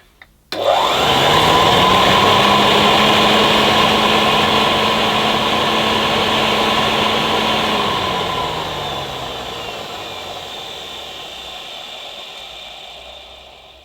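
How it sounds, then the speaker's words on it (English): A vintage Hoover 725 vacuum cleaner, at least 93 years old, switches on with a sharp click and runs with its agitator rotating, a loud steady motor whine that slowly winds down toward the end. "I'll switch on again, and we'll see the agitator rotating."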